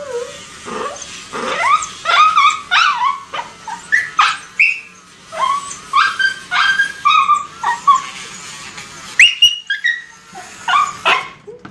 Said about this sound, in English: some dogs are more of a talkers than other dogs